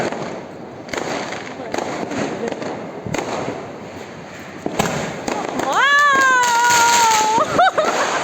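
Diwali firecrackers bursting with sharp pops and crackles, followed by a rising whistling firework near the end, with people talking nearby.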